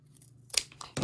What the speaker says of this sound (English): we're going to cut off that excess fabric